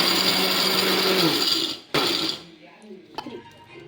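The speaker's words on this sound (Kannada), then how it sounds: "ಈ ಥರ ನಾವು ಸ್ವಲ್ಪ ಗರಿಯಾಗಿ ಮಿಕ್ಸಿಗೆ ಹಾಕ್ಕೋಬೇಕಾಗುತ್ತೆ" A kitchen mixer grinder whirs loudly while coarsely crushing cleaned peanuts, a steady gritty grind that cuts off abruptly, restarts briefly, then stops, leaving a quiet clatter.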